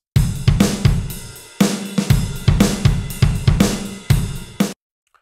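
A Logic Pro Drummer beat in an aggressive rock style, with punchy kick and snare hits and crashing cymbals driving a steady, loud groove for several bars before it stops dead.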